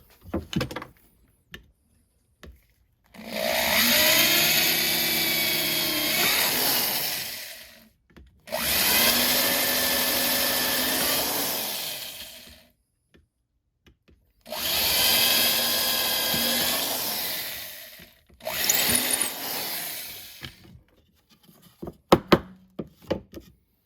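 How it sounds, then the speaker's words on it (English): A power drill whines loudly in four long bursts drilling holes in wood, each several seconds, separated by pauses and a few small knocks and clicks at the end. "go ahead and drill these holes."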